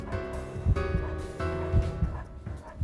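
A dog in the video game Spirit Hunter: NG gives a few short, close barks and yips in a loose rhythm, with whimpering tones between them and no talk over it.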